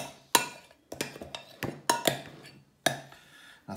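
A spoon scraping pie filling out of a bowl, with a few sharp clinks and scrapes spaced irregularly, fairly close and quiet, no talking.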